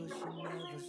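Newly bred chickens give a short, faint burst of clucking, soft and close, lasting under a second.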